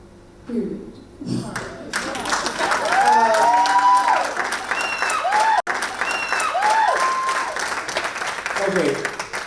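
Enthusiastic audience applause at a keynote speech, loud and sustained clapping from a crowd with some cheering, following brief speech at the start and fading as a voice returns near the end.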